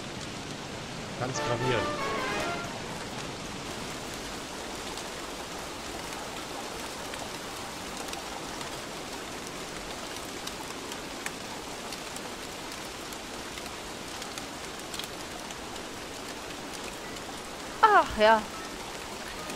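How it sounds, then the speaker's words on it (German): Steady, soft rain falls throughout a video game scene, a constant hiss broken by a couple of short bursts of people talking near the start and the end. "Es dürfte dann echt mal aufhören zu regnen."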